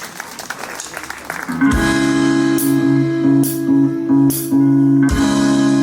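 Audience applause for a girls band at a live cover performance, short scattered claps before a sustained swell of loud clapping over a held harmonic instrumental tone.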